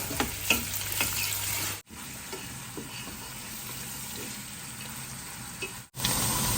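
Chopped onions for a chicken biryani fry in a pot with a continuous close sizzle and stirring scrapes, clear and unaccompanied by talk, interrupted by two brief cuts.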